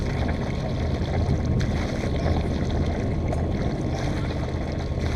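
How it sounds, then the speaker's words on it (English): Steady wind buffets the microphone aboard a sailboat during a yacht club race, a constant roaring rush with low gusty rumble and no voices. "That's how much wind there is."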